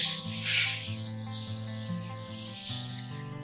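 Sugar paste fondant is smoothed around a Minion-themed cake, producing a continuous soft rubbing and hissing sound over steady background music.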